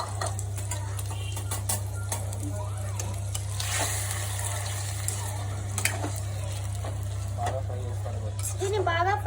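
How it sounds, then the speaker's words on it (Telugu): Marinated chicken fries in oil in a pan, with a continuous low sizzle and a few scattered clinks and taps of a utensil stirring, under a steady electrical hum. "దీన్ని బాగా ఫ్రై చేసుకోవాలి."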